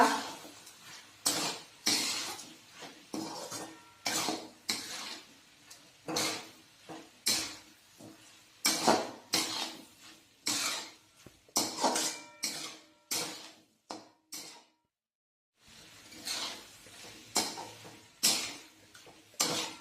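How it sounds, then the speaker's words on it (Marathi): Rice being stirred with Everest biryani masala in a pot, a steady run of close, sharp scraping and clinking strokes from a spoon against the metal with a brief pause, and no voices. "आता हे सर्व व्यवस्थित मिक्स करूया"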